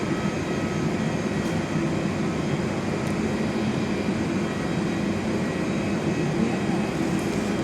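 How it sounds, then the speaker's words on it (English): A Qantas Airbus A319 airliner departing Perth airport gives off a constant, loud, broad engine roar that holds at an even level throughout, with no voices over it. "Qantas Airbus A319 is just about to depart Perth."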